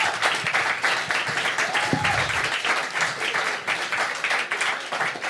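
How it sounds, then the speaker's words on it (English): Audience at a local election debate in Tallinn breaks into sustained applause, a dense wash of clapping that stays loud and steady throughout, with a brief voice rising through it. "Let's give a big applause."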